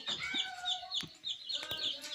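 Young chicks brought home to a village house peep and chirp in repeated high, thin calls, fairly close and steady, with faint background noise and no clear talk.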